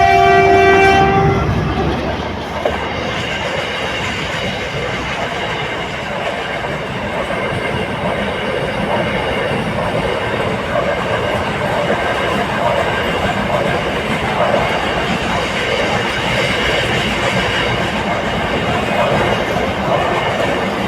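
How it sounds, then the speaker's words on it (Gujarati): A train pulls in close by with a loud horn blast in the first second or so, then a steady heavy rumble and clatter of rail cars passing for the rest of the time, amid busy traffic. "જો અત્યારે રેલગાડી આવી રહી છે"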